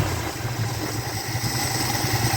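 The engine of a 1976 Dodge D100 pickup runs steadily at idle, a close, even low rumble with a faint rhythmic pulse and no talking.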